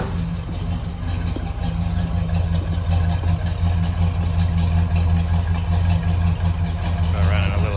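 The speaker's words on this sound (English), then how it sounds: "still running a little heavy, I think. See it at a natural idle though." A 1970 Pontiac GTO Judge idles after a cold start, a loud, steady, deep rumble heard close up throughout.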